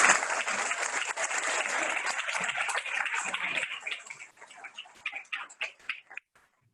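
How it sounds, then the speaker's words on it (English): A round of applause from an audience at a college leadership forum, dense and loud at first, then thinning into scattered individual claps that trail off near the end. "will you help me one more time give her a round of applause?"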